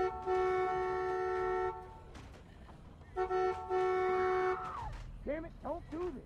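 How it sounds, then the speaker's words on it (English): A car horn in The Walking Dead video game sounds in two long sustained blasts separated by a pause, followed by voices talking in the scene. "I'll honk the horn."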